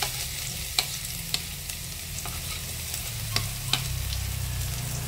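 Garlic sautés in hot oil with spices in a chicken curry pan, a steady close sizzle running throughout with a few sharp clicks of a utensil against the pan.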